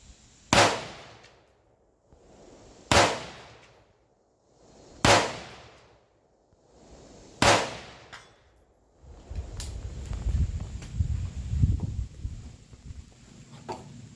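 Four rifle shots at an outdoor range, each sharp crack followed by a ringing ping off steel target plates, spaced about two seconds apart, then a stretch of low rumbling handling noise and wind.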